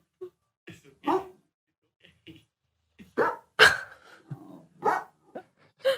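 A pet dog barks in short, sharp bursts at its own likeness in a video game, with several loud yaps and yips clustered near the middle and end, separated by brief quiet gaps.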